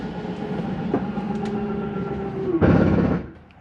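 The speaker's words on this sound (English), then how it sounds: "That is just a slide mechanism keeping itself from coming in too far." Slide-out mechanism on a Jayco Eagle 31MB travel trailer: a steady mechanical grinding hum with a faint whine runs for a few seconds, then a louder, harsher burst near the end before it stops.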